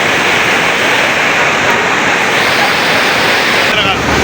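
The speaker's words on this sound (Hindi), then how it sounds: "बहुत तेज़ बारिश हो रही है" Very heavy rain pours down in Lahore, a dense, loud, unbroken roar of water that fills the whole stretch evenly without letup.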